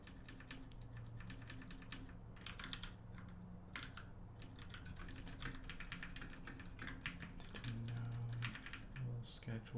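Close, continuous typing on a computer keyboard, dense clattering keystrokes in irregular bursts with brief pauses throughout.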